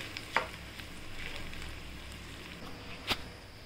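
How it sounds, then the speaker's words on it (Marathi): Sago khichdi is stirred in a pan, giving a soft continuous scraping and gentle sizzle close by, with two brief sharper clinks of the spoon against the pan. "हलवून घेऊया व्यवस्थित"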